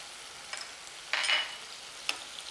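Onion frying in a pan with chili sauce and soy sauce gives a soft, steady sizzle, broken by a few light spatula stirs and scrapes, with a louder stir burst in the middle and no voices.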